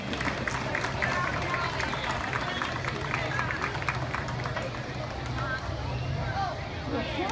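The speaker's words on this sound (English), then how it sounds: "Let's give them a round of applause." Crowd applause at an outdoor bandstand dedication, a steady wash of clapping with crowd murmur, sustained at moderate loudness throughout.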